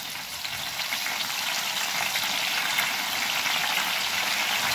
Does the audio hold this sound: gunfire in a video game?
no